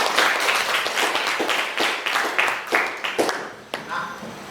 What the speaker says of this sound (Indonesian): Kita berikan aplaus dulu.